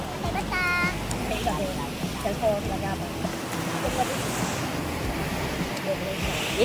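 Waves wash continuously onto a beach, a low, steady surf roar mixed with wind buffeting the microphone, while people talk faintly in the background.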